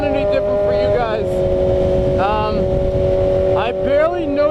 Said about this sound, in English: Alright, so guys, here's the exhaust.